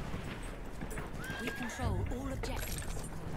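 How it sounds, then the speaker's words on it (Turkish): A horse in the video game Battlefield 1 gives a loud, wavering whinny among hoofbeats and battle noise, while someone talks over it. "Şu atı ver bakayım bir"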